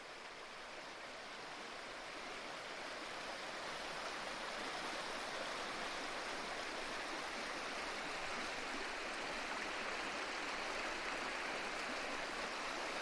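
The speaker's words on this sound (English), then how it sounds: "Looks like the water's moving pretty good though." River water rushing through Little River Canyon, a steady broadband wash of flowing current, close and continuous, slowly swelling slightly louder throughout with no voices.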